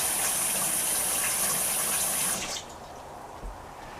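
Water pours from a tap into a roasting pan of tomatoes, butternut squash and sweet potatoes, a steady gushing stream for about two seconds before it stops, followed by a faint pan knock.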